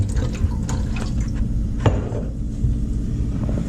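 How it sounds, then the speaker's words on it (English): Water runs into a turkey roasting pan for gravy, a steady pouring wash with a few splashy drips and a light clank, heard alone at moderate volume. "we're going to put some water in here because we like a lot of gravy"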